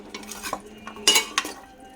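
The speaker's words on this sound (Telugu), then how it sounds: "ఇలా ఉప్పు, కారం, పసుపు వేసుకొని మళ్ళీ కలుపుకుంటానండి" Country chicken pieces being mixed by hand or spoon with salt, chili powder and turmeric in a metal vessel, a few scattered clinks and scrapes, close and moderately loud, no talking.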